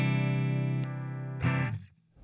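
An electric guitar note sustains with rich, ringing harmonics through a clean amp channel, miked with an SM57 at the speaker cabinet, then is choked off with a brief scrape of strings.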